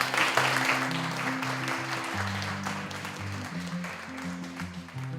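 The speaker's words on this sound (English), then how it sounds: "So can we give them a round of applause?" An awards-night audience honoring community award recipients applauds with dense, continuous clapping while music with steady tones plays underneath throughout.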